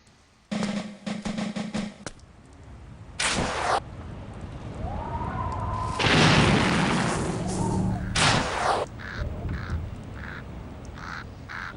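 Cannon fire from the Stratego board game by Hasbro: several loud booming blasts with crackling bursts, spaced irregularly over game sound effects and bird-like caws.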